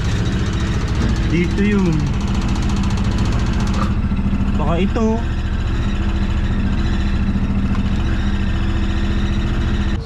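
An old Bajaj auto rickshaw's small engine idles steadily and loudly throughout, a constant rattling drone, while people talk over it close by.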